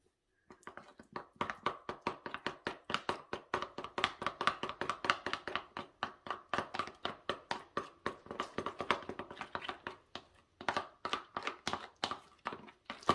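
Vinegar being stirred into a mayonnaise and yogurt salad dressing in a bowl, heard as a long run of quick, steady clicking and tapping strokes from a utensil, close and alone, pausing briefly before continuing.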